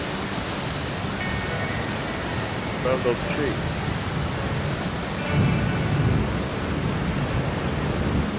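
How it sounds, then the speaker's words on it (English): Heavy rain pours steadily outdoors at Bowron Lakes, a dense, loud hiss on the lakeshore near a glacier, continuous for the whole span, with a person speaking briefly over it. "It's raining hard."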